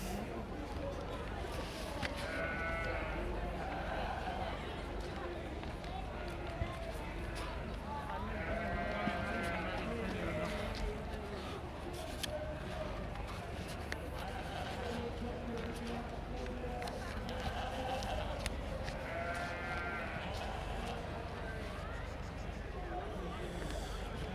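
Dutch Spotted sheep bleat now and then at the Great Yorkshire Show, the calls rising briefly above a steady din of crowd chatter and people talking nearby.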